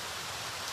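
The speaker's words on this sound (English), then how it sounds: "It's pouring rain out here." Heavy rain pours outdoors as a dense, steady hiss of broadband noise, even and unbroken, fairly quiet overall with no voices.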